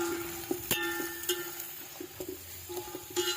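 Onion tempering in hot oil for a meat curry, with faint frying hiss under a series of sharp metallic clinks and taps from utensils against the pan, close by.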